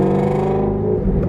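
Ford Shelby GT350 exhaust with the resonator deleted, a loud, deep harmonic engine note that holds, then sags slightly in pitch, close and alone.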